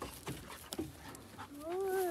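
An American Labrador retriever on a farm hunting trip gives short soft whimpers, then a longer rising whine, close by over faint outdoor background noise.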